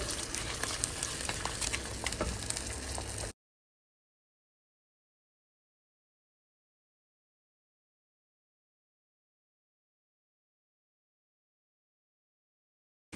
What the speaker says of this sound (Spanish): Vamos a agregar el arroz en bastantito aceite. Le vamos a estar moviendo poco a poco hasta que quede doradito.